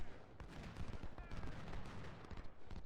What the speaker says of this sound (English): I guess I'll put artillery on them